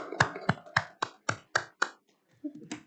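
Applause at a city council organizational meeting, heard as a short run of about eight sharp, evenly spaced claps from a few hands nearby, trailing off after a brief pause.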